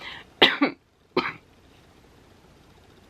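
Two sharp coughs in quick succession, close and fairly loud, then quiet room noise for the rest.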